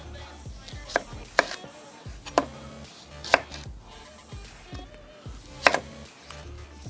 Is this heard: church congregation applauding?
no